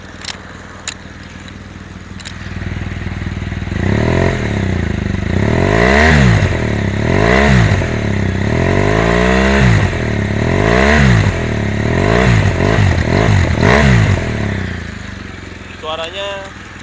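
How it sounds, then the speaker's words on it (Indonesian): A BMW R1200GS boxer-engine motorcycle revs in a series of throttle blips, each rising and falling sharply over a steady idle. It is close and loud after a quieter opening, and a voice comes in briefly at the end. "jadi boxer engine itu suaranya rapet, padet, tapi di bawah"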